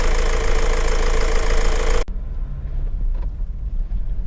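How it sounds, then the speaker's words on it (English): A Honda CR-V 2.2 i-DTEC diesel engine runs steadily, loud at first, then noticeably quieter and more muffled after an abrupt cut partway through. "Fabulous engines in operation."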